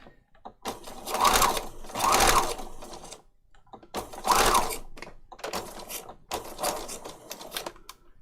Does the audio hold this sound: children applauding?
no